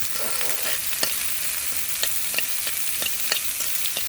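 Sliced onion, bay leaf and cumin fry in oil in a wok, a loud continuous sizzle with regular scraping stir strokes close up.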